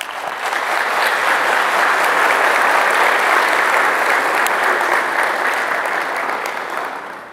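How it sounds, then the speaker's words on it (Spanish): Applause from a theatre audience rises into a loud sustained wash of many clapping hands, holds steady, then fades slightly toward the end. "vamos a darle un aplauso"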